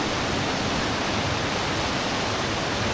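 Strong rushing spring water surges in a steady, loud, broadband roar that fills the whole clip without pause, close to the listener, with no voices over it.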